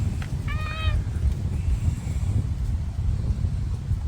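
A cat gives a single short meow close to the microphone, heard outdoors over low, rumbling wind noise.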